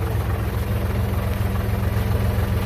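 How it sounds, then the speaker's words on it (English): A tractor engine idles off to one side in woodland, a steady low throbbing drone that holds evenly and moderately loud throughout. "I got my son over in the tractor there, if you can hear him."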